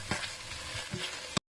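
Leek greens being stirred in a pot for a velouté: a continuous close sizzle with soft scraping strokes and a sharp knock at the end.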